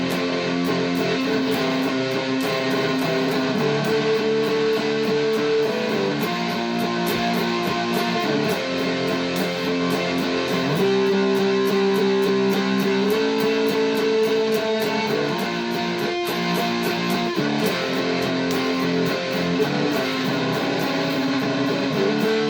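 Thick, distorted electric guitar playing a sustained chord riff from a song's chorus, shifting chords, loud and continuous throughout.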